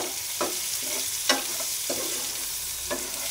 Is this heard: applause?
no